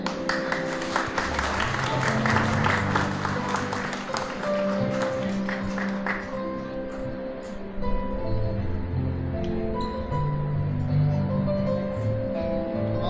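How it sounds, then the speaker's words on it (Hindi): A church wedding congregation gives a burst of loud clapping after the couple exchange rings; the applause is dense for several seconds, then fades into murmuring and low organ-like tones. "जोर से ताली बजा देंगे।"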